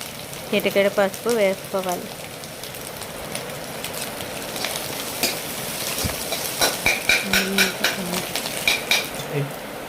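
Spices being stirred into Maggi egg noodles in a pan: repeated close scraping and tapping of a spoon against the pan over light sizzling, with a rhythmic run of clinks toward the end.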